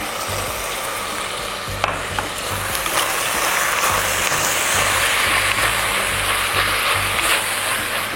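Duck leg meat fries in butter in a hot pan, giving a steady, close, continuous sizzle with faint crackles throughout, no talking.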